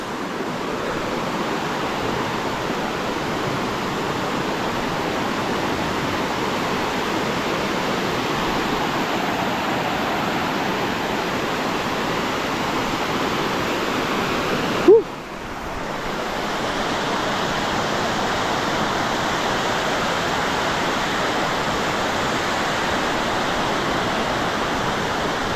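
A second waterfall above Tuay Falls roars as a loud, steady wash of falling water heard up close, broken by one brief sharp knock midway before the rush continues unchanged; no talking.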